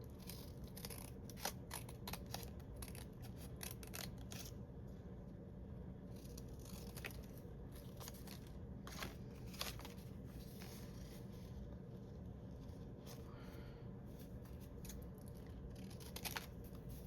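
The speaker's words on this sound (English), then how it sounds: "that doesn't require much cutting, does it?" Scissors cut through paper in a quiet series of crisp snips and rustles, irregular and close, with no voices.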